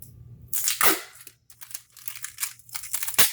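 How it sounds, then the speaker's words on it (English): Loud ripping bursts of packing tape pulled off the roll, a long tear followed by shorter crackling pulls, close by with no talking. "Packing tape is so loud coming off the roll."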